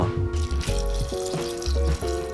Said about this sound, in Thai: เติมน้ำเปล่าลงไปให้ท่วมถั่ว มากกว่าปริมาณถั่ว3 เท่านะครับ